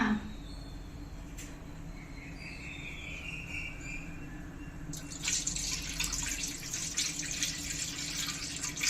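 Water runs steadily into a cooking pot, a continuous hiss and splash that grows brighter and louder partway through, with no talking.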